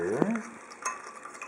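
A spoon stirs a watermelon cider mixture being prepared for fermentation into a 5-gallon batch, with a brief scrape and light clinks, then a softer swish, close and moderately quiet.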